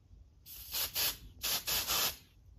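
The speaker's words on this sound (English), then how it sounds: "I'm going to activate the smoke detector by just spraying some smoke." Short aerosol bursts of canned test smoke sprayed at a smoke detector, a close, loud hiss that comes in a quick series of separate puffs before fading out.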